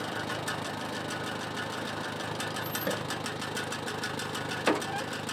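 An International Harvester 284 tractor engine idles steadily nearby, a constant rumbling chug with a faint clank partway through.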